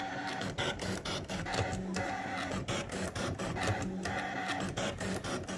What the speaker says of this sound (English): So this is a machine cutting it.